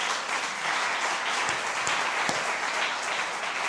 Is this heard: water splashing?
no